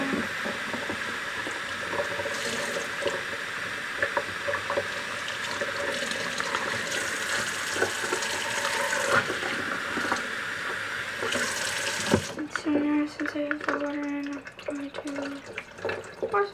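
Warm tap water runs steadily into a tank for a long stretch, then stops, leaving faint drips, sloshing and quiet handling noises.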